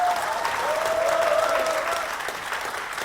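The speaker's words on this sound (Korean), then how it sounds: "큰 박수 한번 부탁드리겠습니다." An audience at a political party town-hall meeting in Seongju claps steadily, a dense, even patter of many hands that holds at a moderate level and eases slightly toward the end.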